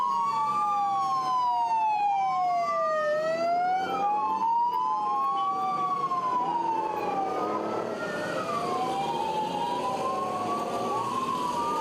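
An ambulance siren under police escort wails loudly and continuously, its sweeping rising and falling tones overlapping with a second siren over a low traffic rumble.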